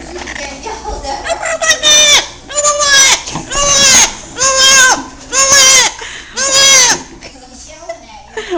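A pet parrot yelling in a series of about six loud, harmonic squawking calls in quick succession, each lasting around half a second, close to the microphone with no speech in between.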